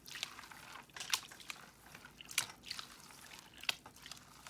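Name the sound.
water washing over rocks in a gold pan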